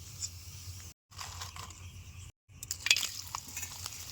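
Potato papad frying in a pan in a village kitchen, a soft crackle and sizzle with light scraping, interrupted by two brief silent gaps and followed by a few sharper clinks, quiet and close.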